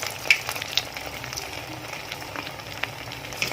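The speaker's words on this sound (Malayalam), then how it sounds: "ഇനി നമുക്കിതൊന്ന് ഫ്രൈ ചെയ്തെടുക്കാം." Bread and egg balls frying in a little hot oil in a small deep pan, a soft continuous sizzle with occasional sharp pops and crackles, close but fairly quiet.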